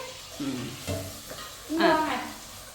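Mustard seeds and garlic frying in a pan for a raw banana fry, a close sizzle with brief crackles and a spoon stirring, louder toward the end.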